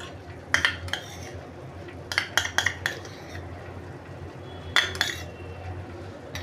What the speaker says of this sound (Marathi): आता पुन्हा आपण याला असं चांगलं मिक्स करून म्हणजे गोळा होईस तोपर्यंत करूया